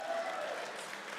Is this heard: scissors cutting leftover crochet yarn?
no